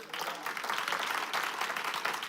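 Church congregation applauding during an evening service, a dense, steady wash of many hands clapping with uneven surges, moderately distant, with faint voices mixed underneath.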